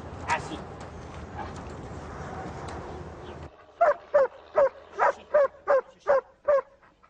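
Ulsko, a rubble search dog working in a rubble dump near Salbris, gives about eight sharp, evenly spaced barks, close and loud, after a stretch of noisy background with voices.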